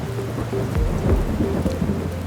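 A rainstorm with thunder over Dubai in the United Arab Emirates, brought on by cloud seeding: steady rain hiss with low, rolling thunder swelling twice close by, and no voices.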